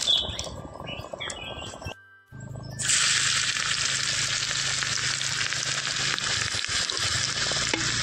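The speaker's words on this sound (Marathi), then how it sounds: "अशी चरचरा लसूण भाजू बाई आणि चणचणीत अशी फोडणी देऊ बाई" Crushed garlic hits hot oil for a tempering in a Malvani village kitchen, a loud, bright, continuous sizzle that erupts after a short pause, preceded by softer cooking noise with faint bird chirps in the background.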